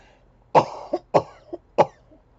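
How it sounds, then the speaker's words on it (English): Three sharp coughs in a row, close and loud, each followed by a softer catch of breath. "Oh, excuse me, I got a cough."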